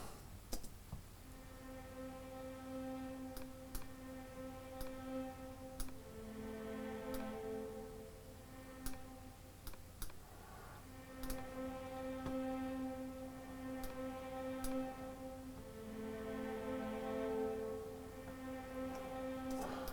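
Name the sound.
violas playing string section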